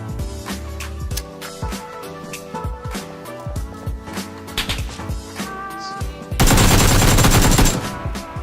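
Gunfire in PUBG played on Xbox, with the player taken under fire from behind: rapid bursts of sharp shots ring out across a tonal game soundtrack, ending in a loud, dense volley of automatic fire.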